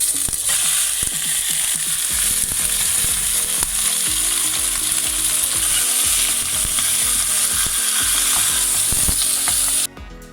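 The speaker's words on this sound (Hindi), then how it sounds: "अच्छी तरह सील कर लो, जो मैं अभी कर रहा हूँ इसको बोलते हैं सील।" Mutton searing in a hot pan for soup, a loud, dense, continuous sizzle and crackle with scraping stirs throughout, cutting off abruptly near the end.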